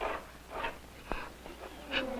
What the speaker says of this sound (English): I think your dog wants in.